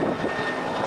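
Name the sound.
military helicopter flying overhead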